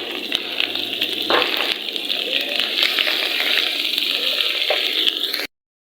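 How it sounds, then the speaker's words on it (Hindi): Tomatoes fry in a hot pan of spinach (saag) tadka, hissing and crackling in a steady close sizzle with a few soft scrapes of stirring before it cuts off. "तो इस तरीके से हम टमाटर को भी इसके अंदर फ्राई कर लेंगे।"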